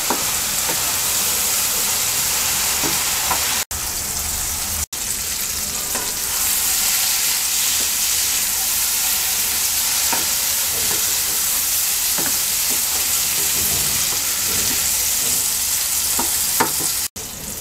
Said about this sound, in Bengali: এবার আমরা পুঁটি মাছ দিয়ে দিচ্ছি